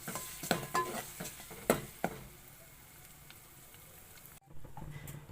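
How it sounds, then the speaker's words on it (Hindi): Garlic paste frying in a pan, with a soft steady sizzle under intermittent scraping and stirring clicks from a utensil, fairly quiet and close, with no talk. "लहसुन को मैंने भून लिया है।"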